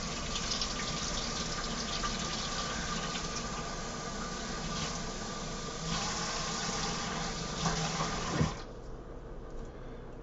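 Warm water runs steadily from a kitchen tap for about ten seconds, a continuous broadband splashing rush that shifts slightly as the flow is adjusted and then stops abruptly near the end, leaving quiet room tone.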